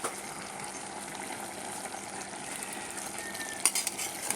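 Water poured into a vegetable dish cooking in a pan, a soft continuous hiss and bubbling at low volume, ending with a few brief clinks of a utensil against the pot.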